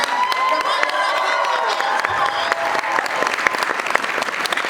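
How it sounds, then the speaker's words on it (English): Audience at a My Hero Academia voice actor Q&A panel at Galaxy Con 2019 applauding and cheering, loud continuous clapping with whoops and shouts, a few voices rising through the noise. "give yourself a rare round of applause for that"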